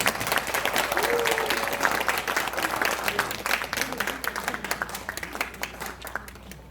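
An audience applauds after a lecture at a September talk event, steady clapping that gradually thins out into scattered individual claps toward the end, with no talk over it.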